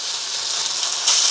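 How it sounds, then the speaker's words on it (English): Beef sizzling in a very hot pan, a steady close hiss of frying that stays loud and even throughout, with no talking. "get the temperature really hot, get a good sizzle on."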